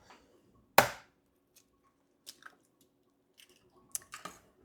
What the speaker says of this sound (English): And into this, I'm going to break 2 eggs